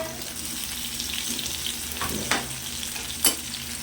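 Bitter gourd (karela) fries in a pan with a steady close sizzle, with a couple of sharper stirring clicks and scrapes standing out near the end, no talking.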